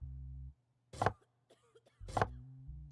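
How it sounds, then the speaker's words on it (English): Two sharp, close coughs about a second apart, each a short harsh burst, with a low steady hum under them that drops out between. "Quit coughing."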